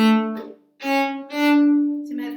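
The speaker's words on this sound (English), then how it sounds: "It's called shave and haircut 2 bits," A cello plays the shave and a haircut, two bits lick, a short run of bowed, resonant notes with a brief pause before the final sustained tones, heard close and without talking.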